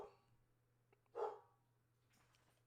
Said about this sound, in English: And then you hear my dogs barking